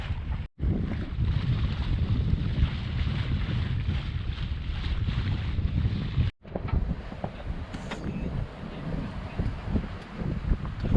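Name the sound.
sailboat sailing in gusty wind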